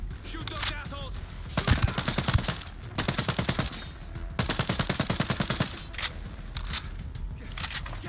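Bursts of automatic gunfire in Ghost Recon Breakpoint, several rapid rattling volleys at close range with short pauses between, alongside someone talking.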